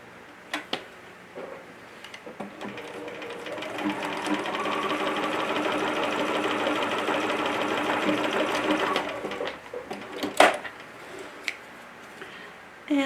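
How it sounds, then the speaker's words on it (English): Sewing machine running a steady straight stitch along the side seams of a fabric jumper, a continuous whir lasting several seconds with faint handling clicks before and after. "I will stitch these at the side using a straight stitch"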